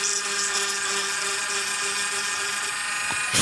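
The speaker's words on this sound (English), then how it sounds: "I'm going to use this Dremel real quick." Dremel rotary tool whining at high speed on a 1/60 scale plastic model kit, a steady close buzz that cuts off near the end with a brief louder burst.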